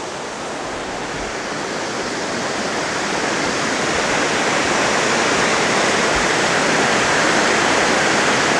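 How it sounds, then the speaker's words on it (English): Waterfall on the Upper Chattahoochee River near Helen, Georgia, pours in a loud, steady roar of rushing water that builds slightly over the first seconds and then holds constant, with no voices. "It's the Upper Chattahoochee River."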